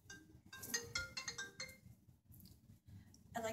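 A mobile phone ringtone plays a bright electronic melody in repeated phrases, moderately loud and close, alone with no talk over it.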